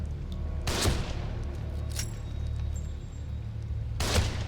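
Sniper rifle shots in the survival-horror video game The Evil Within: two sharp, heavy reports spaced a few seconds apart over a low droning ambience, each with a short booming tail, no talk.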